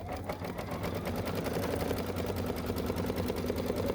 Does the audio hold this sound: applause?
no